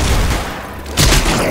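Dense gunfire from the video game Left 4 Dead 2, loud and continuous, dipping briefly before a heavier burst of shots near the end.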